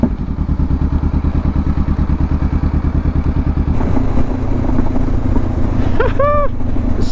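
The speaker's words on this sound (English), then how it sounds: "It has the weight of a small CC motorcycle, but the power of a 500cc motorcycle" A light, small-displacement motorcycle with roughly 500cc-class power rides along, its engine thrumming in a fast, even pulse that shifts in tone midway, ending in a short rising whine.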